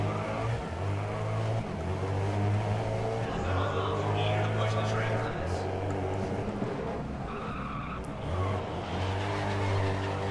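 A hypercar's engine in the racing game GRID (2019) howls loudly through gear changes, rising and falling in pitch with tire squeal and skidding, while a player talks over it.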